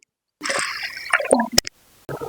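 Water is poured into a cooking pot holding cowpeas, giving short splashing and gurgling bursts with brief drips, close and fairly loud, separated by a moment of quiet.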